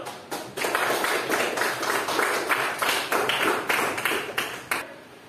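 Audience applause after a group presentation in a classroom teacher-training session: dense, steady clapping from a group, fairly close, with a few louder individual claps standing out before it tapers off.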